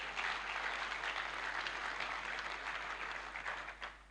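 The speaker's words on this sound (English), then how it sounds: "So he deserved another round of applause." A convocation lecture audience gives a sustained round of applause, a dense even wash of many hands clapping at a moderate distance that fades slightly toward the end.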